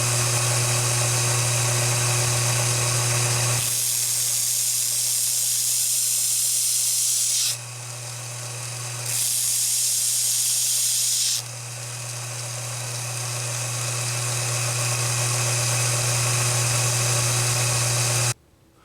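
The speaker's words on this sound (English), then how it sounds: "Nothing like a belt sander to warm your heart up and workpiece." Belt sander working a wooden piece in a cold November workshop, a loud continuous motor drone with harsh broadband abrasive hiss that swells and drops as the workpiece is pressed and lifted, heard alone.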